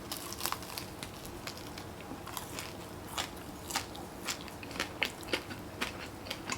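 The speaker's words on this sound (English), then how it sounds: "Let me get one for you to see how crunchy it is." Crunchy Brazilian fried rice ball being bitten and chewed up close, a stream of crisp crackling crunches with sharper snaps scattered through, fairly quiet and without talk.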